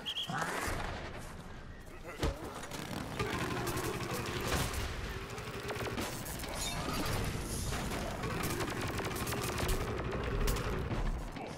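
Rapid gunfire from the video game Plants vs. Zombies Garden Warfare 2 rattles on almost continuously at steady loudness, dense bursts layered with game effects and music, with a player talking over it.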